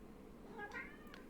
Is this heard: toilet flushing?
no